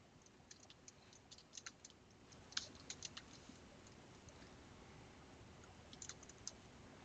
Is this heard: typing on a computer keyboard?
yes